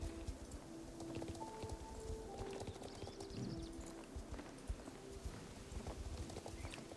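Horse hooves clip-clop in the video game Star Stable, a steady run of quiet hoofbeats over a soft ambient bed with faint tonal game sounds.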